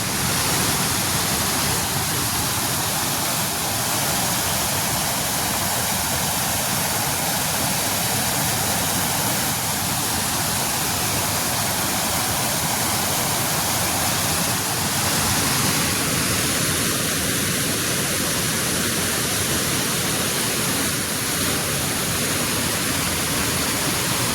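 The Kalondari river and waterfall near Bhaguda village flow with a loud, steady, broadband rushing roar that carries on unbroken throughout.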